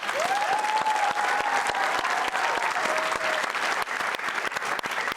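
Studio audience applause at a talk show with a basketball coach, a steady, dense wash of clapping filling the whole stretch, loud and close, with a faint whistle-like tone drifting over it early on.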